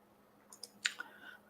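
A few sharp clicks on a computer, quiet and close, scattered irregularly across a moment of near silence.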